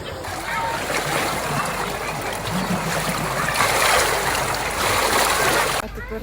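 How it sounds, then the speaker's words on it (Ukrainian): Wave pool at a crowded water park, with a steady broadband wash of churning, splashing water throughout and a busy background of voices, cutting off abruptly near the end. "Хвильки, як на морі майже."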